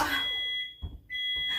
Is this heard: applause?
no